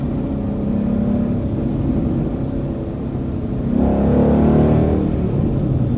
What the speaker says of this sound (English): this car handles turns quite well.